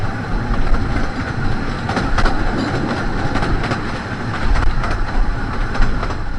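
Steam locomotive Northern Chief hauling a train on the narrow-gauge Ravenglass and Eskdale Railway beneath Muncaster Fell, heard as a steady, loud rumble and clatter of wheels and carriages rolling at speed, with no talk.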